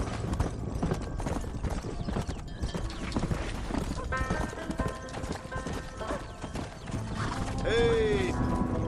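Horse hooves clip-clop steadily while herding cattle in Red Dead Redemption, a busy rhythmic patter under game ambience, with a brief whinny near the end and voices speaking in the background.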